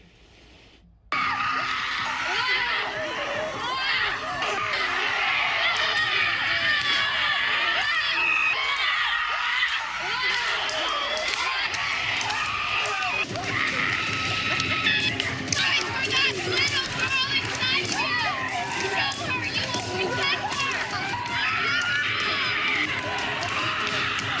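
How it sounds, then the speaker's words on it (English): Women screaming in a forest during a paid rage ritual, a dense crowd of overlapping shrieks, yells and whoops that bursts in after a brief quiet and stays loud and chaotic to the end. "Women are going into the woods and screaming."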